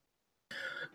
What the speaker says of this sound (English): just had a cough attack